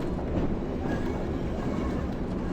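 A diesel multiple unit train shunts in Train Sim World on the Tees Valley Line, giving a continuous loud rumbling roll with faint wheel noise throughout and no voices.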